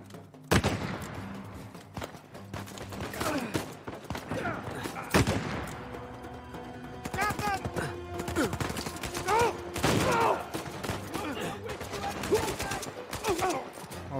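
Gunfire in Uncharted 4: A Thief's End comes as scattered bursts of sharp shots and rapid volleys, some loud and close, others fainter, over a noisy battle background, with a voice briefly speaking.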